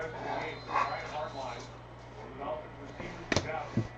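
A pet dog reacting to reflections during an indoor trading card case break, with a couple of sharp barks near the end while people talk throughout.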